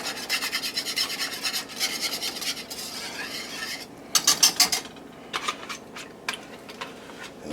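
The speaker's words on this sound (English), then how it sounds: "Stir until it gets smooth." Meatball sauce being stirred in a pot: rhythmic scraping and rasping strokes that ease into lighter, spaced clicks and scrapes. Close and fairly quiet, with no talking.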